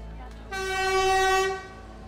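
A train horn sounds once on the Death Railway near Kanchanaburi, Thailand, a loud, steady tonal blast of about a second over a low rumble.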